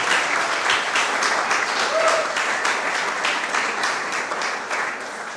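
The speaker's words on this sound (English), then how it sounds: "Let's give them another round of applause." Loud, close applause for a youth cricket team at an under-15 championship awards ceremony, dense continuous clapping that stays strong and tapers slightly toward the end.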